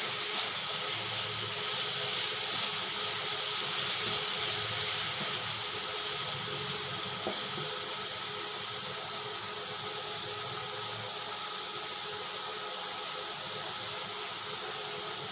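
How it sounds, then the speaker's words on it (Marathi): Tomatoes sauté in hot oil for a spicy homemade dal and brinjal curry, making a steady, close, even sizzle. "हे चांगलं परतून झालं ना टमाटर टाकते. टमाटा चांगला परतून घ्या."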